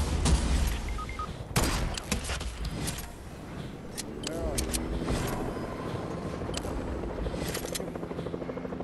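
Gunfire in the Fortnite video game, with several sharp shots and bursts early on over a rumbling engine-like drone, while a player's voice talks over the game sounds.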